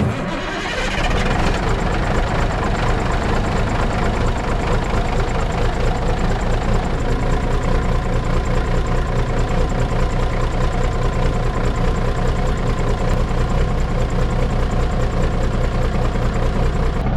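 A Peterbilt diesel truck engine idles steadily and loudly close by, a deep continuous rumble with a low throb that holds without change throughout.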